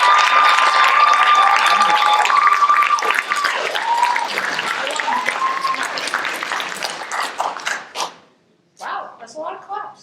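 A game-show audience claps for a contestant, dense and sustained applause with some crowd noise and voices for about eight seconds, then tapering into scattered individual claps.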